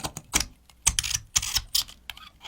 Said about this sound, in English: it's difficult for my razor blade to get a bite on the metal